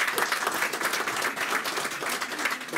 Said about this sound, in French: applaudissements pour Racontar